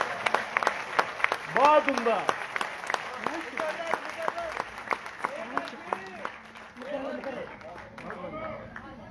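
Audience applause after a recited Urdu couplet at a poetry gathering, with bursts of clapping and lively voices calling out approval throughout.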